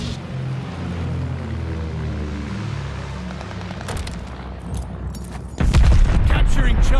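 A glide bomber's bombing run in Call of Duty Vanguard multiplayer: a low, rolling rumble of distant blasts builds under game voice lines, then a loud, sustained burst of explosions erupts near the end.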